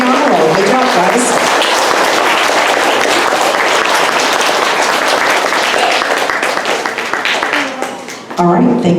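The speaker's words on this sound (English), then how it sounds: "And another round of applause" An audience applauds honor roll students at a school stage ceremony, with loud, close, dense clapping that carries steadily for several seconds, then thins out near the end as a voice breaks in over the fading claps.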